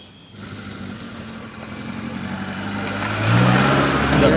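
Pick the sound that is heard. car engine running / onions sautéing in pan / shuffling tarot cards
car engine running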